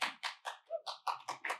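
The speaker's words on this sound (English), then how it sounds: "You're getting applause" Audience applause at a live summit fireside chat on microelectronics policy: a short, fairly close burst of rhythmic clapping in several distinct pulses, with no talk over it.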